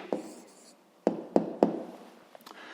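A pen writes down a maths answer, a few sharp taps and short scratchy strokes in quick bursts with quiet gaps between, close and distinct.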